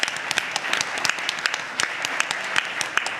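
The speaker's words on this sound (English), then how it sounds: "a round of applause for all would be very useful right now" Audience applause at an afternoon session of an academic conference, a dense patter of many hands clapping steadily and fairly close, with sharper individual claps standing out throughout.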